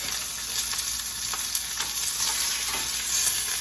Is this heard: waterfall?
no